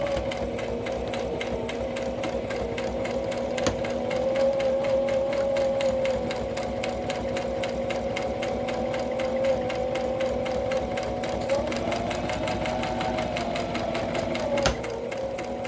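Steady whirring of a sewing machine stitching a tote bag pocket, running continuously and close, with a couple of sharp clicks along the way.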